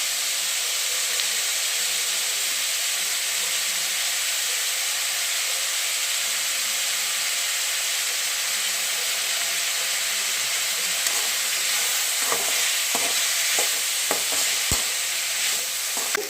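Onion and capsicum sauté in a pan for wheat noodles, a steady broad sizzle running throughout, with a cluster of sharper stirring clicks and scrapes toward the end.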